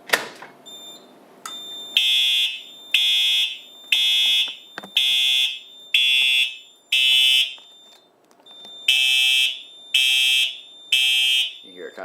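A Simplex 4100U fire alarm system sounding after a pull station is triggered during a test: loud, close, regular horn blasts of about a second each, repeating in a steady rhythm over a thin high tone, after some handling noise at the start.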